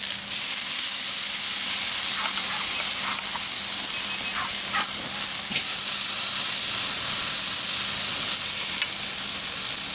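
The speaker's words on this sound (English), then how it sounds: "We're just going to throw this right over those hot coals." Carne asada with cilantro sizzles steadily over hot coals, a loud, continuous crackling hiss with scattered pops, close up and without voices.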